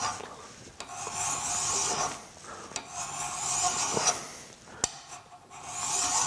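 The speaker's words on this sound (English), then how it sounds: "Could actually use a more aggressive file. This is a coarse file." A coarse file is pushed across a workpiece to bring it flat, giving long rough rasping strokes in a steady back-and-forth rhythm, close and fairly loud. A few sharp knocks fall between passes.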